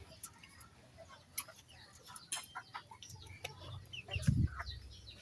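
Pet chickens cluck softly at feeding time, with scattered faint clucks through the clip and one louder burst near the end over quiet background noise.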